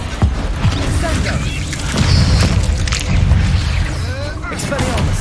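Incendio fire spell cast during combat in Hogwarts Legacy, a whooshing burst of flame over a dense rumbling game soundtrack with booms and creaking effects, mixed among other spell impacts at steady loudness.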